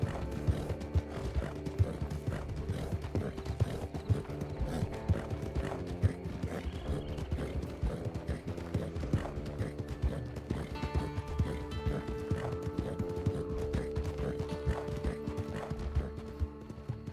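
Horse hooves clip-clopping in the Red Dead Redemption roleplay game, a steady continuous rhythm of hoofbeats with an occasional whinny, mixed with game sounds and faint talk.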